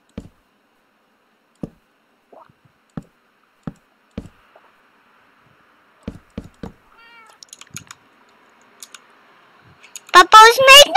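A cat meows in the Minecraft video game, with a burst of loud, close meowing near the end, following scattered mouse or key clicks and short game sounds.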